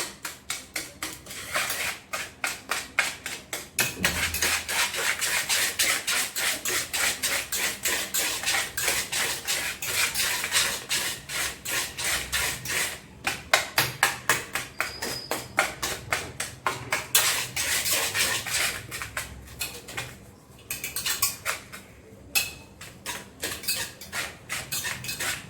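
A utensil is rapidly and rhythmically beaten against a bowl while butter is mixed into banana cake batter. The scraping clatter stays close and continuous, with brief pauses.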